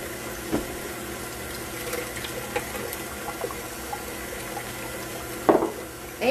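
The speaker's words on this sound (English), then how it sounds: "So we have a half cup of warm water." Half a cup of warm water pours into a cake mix, a soft steady trickle lasting several seconds, with a few faint clicks and a louder knock near the end.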